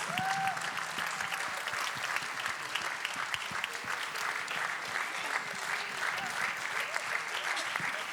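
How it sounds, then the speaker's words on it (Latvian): Audience applause filling a hall at a New Year concert, steady dense clapping that holds at a constant level throughout, with a few voices mixed in. "Aplausus, aplausus!"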